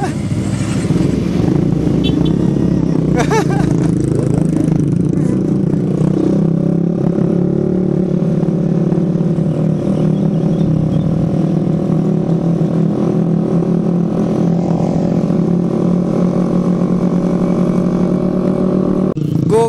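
A trail motorcycle rides and revs loudly up close, its engine droning with rising and falling pitch and rattling clatter throughout.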